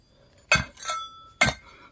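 A pickaxe strikes an old pot twice, each a bright, ringing clink with short metallic resonance, close and loud over near silence.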